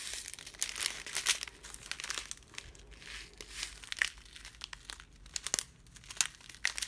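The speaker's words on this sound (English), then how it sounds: "I'm sorry about the crinkling sound" Plastic packaging from a Diamond Art Club diamond-painting order crinkles and rustles close up while being unwrapped, with a busy stream of crackles and crunchy bursts running throughout and no talking.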